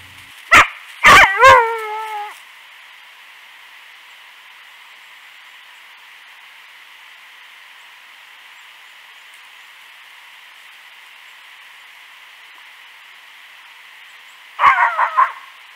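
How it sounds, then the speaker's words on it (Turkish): A dog barking outdoors in wild bear country: a quick cluster of sharp barks with a whine, then a long quiet stretch of steady insect-like background before another short burst of barks at the end. "Sağ tarafa doğru gitti ve orada havlamaya devam etti."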